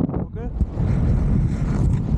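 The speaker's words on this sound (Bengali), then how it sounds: "হাওয়া হে ভাই।" Strong wind roars and buffets across the microphone during a paragliding flight at Khajjiar, Dalhousie, Himachal Pradesh. A voice speaks briefly at the start before the dense wind rumble takes over.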